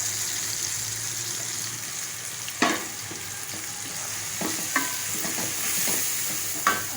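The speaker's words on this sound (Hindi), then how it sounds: "अब ये मसाला मेरा जो है अच्छी तरीके से भुन गया है।" Spices and curry leaves fry in a pan of oil for aloo bharta. A steady soft sizzle is broken by a few sharp scrapes and clinks of a spoon stirring.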